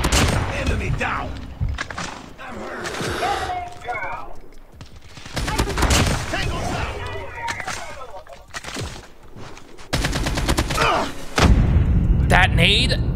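Dense, chaotic video game shooter combat: repeated bursts of automatic gunfire, a booming grenade blast and thuds, loud and close, with voices speaking over the action.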